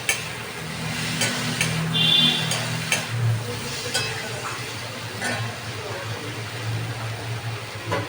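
Garlic frying in a pan while being stirred for a fish curry, a low soft sizzle with scattered scraping clicks of the spoon, close and steady beneath a faint background hum.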